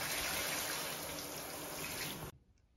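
Water sprays hard against a bathtub wall while a leaking tub is being tested, making a loud, steady hiss that stops abruptly near the end and leaves a faint drip-like quiet.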